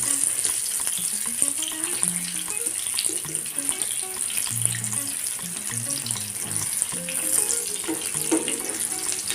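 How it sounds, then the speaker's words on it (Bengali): Pumpkin fritters fry over low heat in a pan, a continuous bubbling sizzle with crackles and pops, close and steady, with faint tonal background sounds underneath. "জোর কমিয়ে আমি ভাজবো এগুলোকে।"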